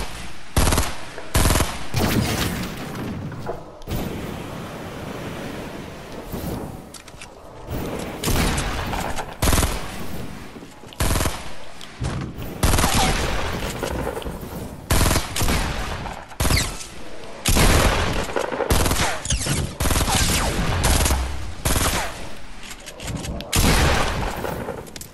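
Loud, sustained gunfire in the Fortnite video game, with rapid automatic bursts and single booming shots crowding together nearly nonstop, close and dense.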